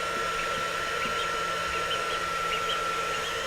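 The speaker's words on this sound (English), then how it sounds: "And they love the blow dryer." A hair dryer blows a steady, close, even whoosh for the whole stretch while ducklings are kept near it, with faint high peeps from the ducklings now and then.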